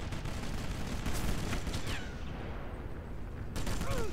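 Rapid bursts of gunfire in the World War II sniper video game Sniper Elite, with loud repeated shots and rattling volleys over a steady noisy battle background, no talking.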